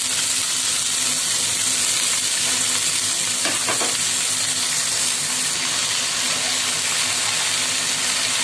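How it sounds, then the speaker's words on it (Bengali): Red amaranth greens go into a pan of frying onion and garlic, and a loud, steady sizzle keeps up, with brief crackles and the scrape of stirring partway through. "পেঁয়াজ আর রসুনটা ভাজা ভাজা হয়ে গেছে, আমি শাকগুলো দিয়ে দিচ্ছি।"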